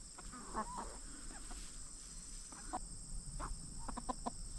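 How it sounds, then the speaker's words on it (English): A young rooster gives short, broken calls and clucks, hoarse and unfinished as it learns to crow, over a steady insect-like hiss outdoors. "That's a rooster for sure. He's just learning how to crow."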